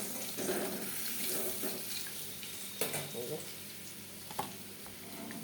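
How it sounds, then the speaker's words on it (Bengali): Potatoes frying in a pan for a home-cooked mutton dish, a quiet sizzle with scraping and stirring clatter, plus some running-water sounds nearby. "আর এই যেখানে আলু ভাজা হইতেছে,"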